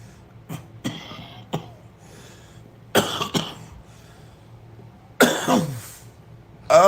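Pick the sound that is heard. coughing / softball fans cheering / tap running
coughing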